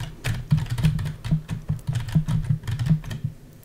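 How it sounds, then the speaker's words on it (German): Computer keyboard sitting directly behind a streaming microphone about 20 cm away, steady run of crisp keystrokes in an uneven rhythm, close and clear with no talk. "während ich spreche, gibt es ein paar Tastenschläge auf der Tastatur"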